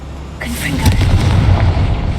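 A Confringo blasting spell in Hogwarts Legacy goes off suddenly as one loud, close explosive burst, followed by a rumbling crackle that lingers for about a second and a half, with voice nearby.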